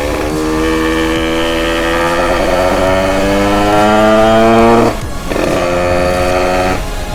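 Ridden through town, a 50cc moped with a 146 main jet and a new 86 top alu transmission revs in a loud, close, buzzing whine that rises steadily, drops off briefly near the end, then picks up again.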